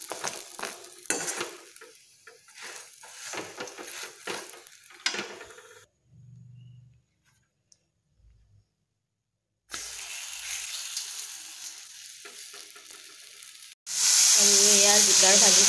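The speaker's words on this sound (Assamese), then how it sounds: "এয়া দুই নম্বৰ ৰুটিখন ভাজিছোঁ, অলপমান তেল দিছোঁ ইয়াতে।" Flatbread (roti) fries in a little oil in a pan, with soft sizzling between stretches of talk and near-silence, then a loud, close hiss of frying.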